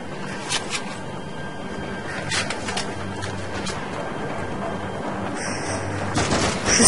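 Bursts of rapid gunfire in The Darkness II co-op multiplayer crackle repeatedly over a busy background of game sound effects, fairly loud and continuous.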